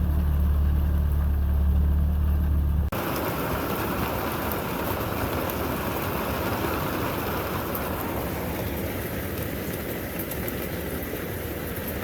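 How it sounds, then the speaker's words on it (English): Steady rain hisses continuously, a dense wash of patter after a low rumble at the start. "And it's starting to rain."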